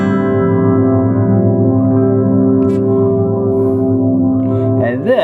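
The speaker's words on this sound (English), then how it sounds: "So now what you're hearing is the repeats, the feedback, okay? It's going through the filter, but the dry signal is not." Delay repeats from a Meris LVX pedal run through a ladder filter placed in the feedback loop, giving sustained, smeared tones that shift slowly. They stay loud and steady throughout, with a brief squelchy sweep near the end.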